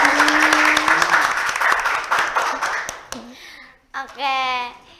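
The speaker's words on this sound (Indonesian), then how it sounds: "Sebelumnya kita kasih tepuk tangan dulu buat narasumber kita hari ini." An audience at a youth talk event on speaking out against sexual violence gives a burst of steady applause that gradually fades as a voice talks over and after it.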